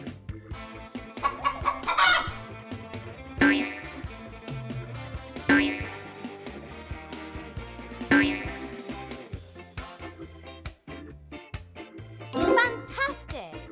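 A chicken clucks in a bright kids' animal-sounds game, with several loud bursts of clucking set against chiming, jingly music.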